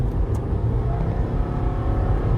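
A Subaru Exiga drives in normal mode in third gear, its engine giving a steady, close interior drone and road rumble without any revving peaks.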